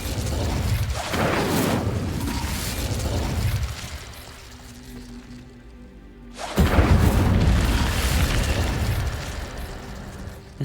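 Incendio fire spell cast in the video game Hogwarts Legacy, a loud booming burst of flame with a crackling roar that fades into a quieter lull, then a second forceful whoosh erupts and sustains.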